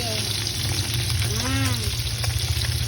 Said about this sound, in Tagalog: So eto, prito muna ako pero may kanin na kami.